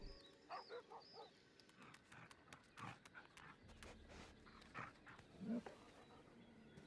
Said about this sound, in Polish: Ten pies trochę wygląda na mniejszy.